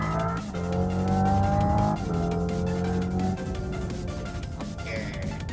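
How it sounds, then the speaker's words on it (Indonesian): A Hyundai Ioniq 5 N electric car accelerates hard in normal mode, its synthetic engine tone holding loud and steady with rising harmonic pitch and a brief shift-like dip, heard from inside the cabin without talk. "ini kita coba kebut dengan mode normal dulu"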